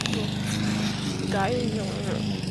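A lawn mower engine drones steadily nearby, its low rhythmic chug running throughout while a voice speaks over it.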